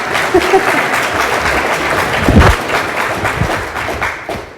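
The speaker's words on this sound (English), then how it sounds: "You can clap." Audience applause at the Cheshire Spaghetti Dinner in New Hampshire for a US Senate candidate's speech: loud, sustained clapping from a room of people, with a few thumps partway through and a fade toward the end.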